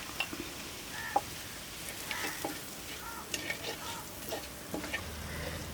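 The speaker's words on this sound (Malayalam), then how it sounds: "നമുക്ക് ഒന്ന് ഇളക്കി കൊടുക്കാം." Spoonfuls of Kashmiri chilli powder and garam masala being stirred as they fry in a pan for a chicken ada filling, a steady soft sizzle broken by scraping strokes, close and moderately loud with no talk.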